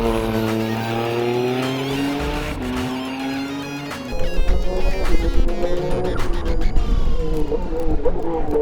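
Race car with an 850-horsepower 3.8-liter Nissan V6 and six-speed sequential gearbox climbing the Pikes Peak hill climb, its engine howling loudly through rising and falling revs, then tires squealing and gravel roaring under hard cornering.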